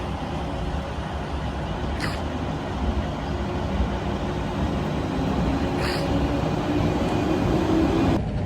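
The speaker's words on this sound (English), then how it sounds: "I see off the train departure from the platform of Fukuchiyama" A steady low rumble of a train pulling out of Fukuchiyama station, Japan, with a broad continuous roar and a couple of brief higher squeaks, no voices.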